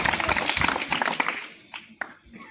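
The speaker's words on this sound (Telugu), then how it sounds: "గట్టిగా చప్పట్లు కొట్టాలి." A church congregation breaks into loud, dense clapping during a Telugu sermon, then the applause thins out into a few scattered claps.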